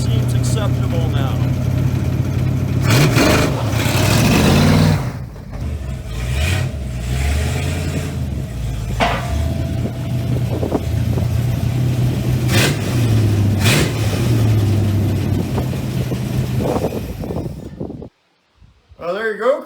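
A Ford Mustang Mach 1 engine revs repeatedly in a garage, a loud, steady mechanical rumble with throttle blips that rises and falls for most of the stretch before cutting off abruptly near the end.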